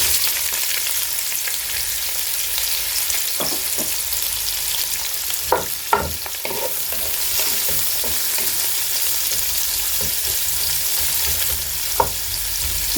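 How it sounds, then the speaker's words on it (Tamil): Sliced onions sautéing in a pan for Covai Angannan style chicken biryani, a steady hiss of frying with occasional stirring clinks and scrapes. "நமக்கு நல்ல கலர் மாறுற அளவுக்கு வதக்கணும் வெங்காயத்தை."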